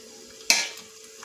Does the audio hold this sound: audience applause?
no